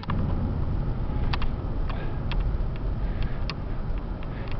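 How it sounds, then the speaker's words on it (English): Chevrolet ambulance with a Duramax diesel driving along, its steady engine and road rumble holding a constant level throughout with a few faint clicks and rattles over the top. "I can just show you real quickly that it drives very easily and nicely and goes very well."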